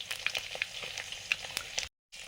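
Salt-and-turmeric-coated prawns with five-spice tempering crackling in hot oil, a dense close sizzle with small pops, briefly cutting out to silence near the end before resuming.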